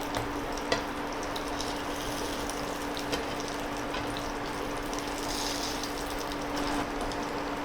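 Prawn cutlets frying in a pan, with a steady, moderate sizzle and occasional soft clicks close by, continuous throughout with no talking.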